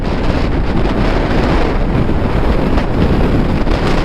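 Strong headwind buffets a microphone while a bike rides through Hyderabad traffic, making a loud, constant roaring rumble that drowns out other detail throughout.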